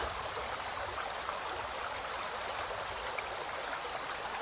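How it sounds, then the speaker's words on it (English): Steady, dense rush of falling water at the base of a waterfall, a constant broadband roar with no pauses or talk. "You approach the base of the waterfall, where the sound grows louder"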